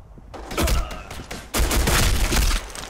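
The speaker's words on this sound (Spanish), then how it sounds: "Me he tirado la granada yo." Heavy bursts of gunfire and a blast erupt in the online shooter Black Squad, two loud, close barrages of crackling shots and booms, the second starting abruptly midway.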